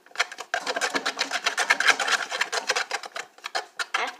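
Slime ingredients being stirred with baking soda in a container, a rapid scraping and rubbing rhythm of short strokes, close and moderately quiet with no talking.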